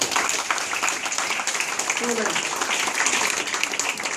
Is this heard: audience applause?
yes